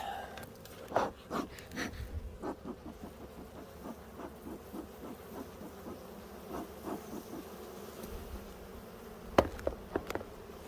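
Honey bees buzz faintly around an opened hive during a spring inspection, a low steady drone with scattered soft knocks and rustles of frames being handled nearby.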